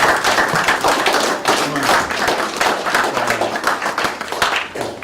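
An audience at a town meeting breaks into sustained applause, dense overlapping clapping that carries steadily throughout with a few voices mixed in.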